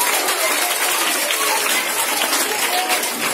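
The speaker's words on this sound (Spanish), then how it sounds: "Un aplauso para ella y para ellos." Applause from an audience at a school end-of-year festival and prize-giving in Salinas, a steady dense patter of clapping filling the whole stretch, fairly loud and close, with a little voice mixed in.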